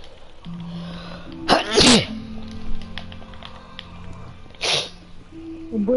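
A person sneezes twice, a sharp loud burst followed a few seconds later by a second sneeze, over a steady background hum with some tonal beeps.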